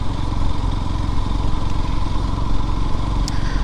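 A motorcycle engine drones steadily and loudly on a ride through Kaziranga National Park, a continuous close rumble with wind buffeting and no talking.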